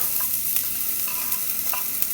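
Chopped shallots sizzle in olive oil in the bottom of a saucepan, a steady close crackling hiss with small pops and a few scraping stirs.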